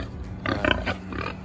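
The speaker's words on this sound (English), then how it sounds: "It's Pinky and Peppa Pig." Pigs on a farm grunt and snuffle a few times nearby in short rough bursts over low background noise.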